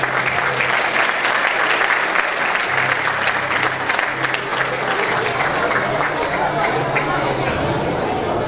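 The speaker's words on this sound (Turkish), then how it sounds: "Büyük bir alkışla onları onurlandıralım." Loud, continuous audience applause rises at an award ceremony honouring successful students, dense clapping mixed with crowd chatter, steady throughout.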